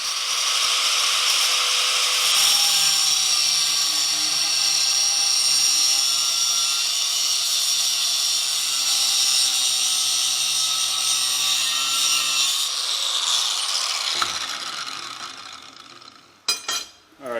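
A power saw cuts steel pieces for a custom chain foot stool, a loud, steady whining grind lasting about fourteen seconds before it winds down, followed by a couple of brief clanks.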